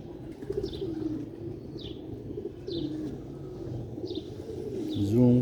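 Pigeons of a red-pearl-eyed fancy breed coo softly and repeatedly, about five rolling coos spaced roughly a second apart over a low background hum, with a louder burst at the end.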